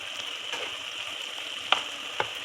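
A spoon stirs dried thyme into spaghetti bolognese sauce in a pan, giving a faint, steady sizzle with a couple of sharp scrapes or clicks near the end.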